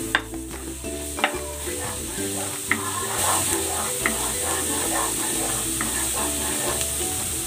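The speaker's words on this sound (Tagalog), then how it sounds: "naglagay na ako ng mantika. Gagawin ko na yung kare-kare sauce. Igigisa ko na po." Oil sizzles in a pan as sautéing begins for kare-kare sauce, a steady close hiss with intermittent utensil clicks and a low droning hum underneath.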